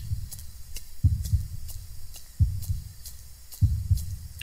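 Heartbeat in the forest horror game Hylophobia, a low, thumping double beat repeating steadily about every second and a half, with faint ambient tones and soft clicks above.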